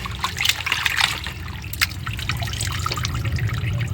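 Water drains and trickles off washed country chicken meat, a steady dribbling patter with a few sharper splashes, close by and alone.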